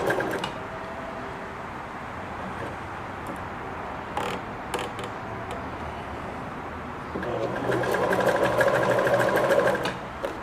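A Kenmore sewing machine runs a short stretch zigzag stitch, its steady mechanical whir continuing throughout and growing louder and busier near the end, with no voices.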